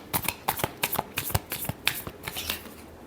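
Tarot cards are shuffled in quick, crisp riffling bursts, about a dozen sharp flutters in uneven rhythm, close and clear with no talk.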